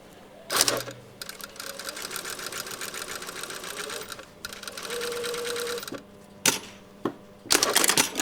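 A sewing machine runs in bursts while stitching a shirt sleeve, a rapid mechanical whir that starts and stops over several seconds, with sharp clunks and handling noises between runs.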